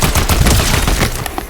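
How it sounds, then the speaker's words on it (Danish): Rapid gunfire in the video game Fortnite, a dense, loud burst of overlapping automatic shots filling the whole moment with no gaps and no talk. "Jeg bliver skudt!"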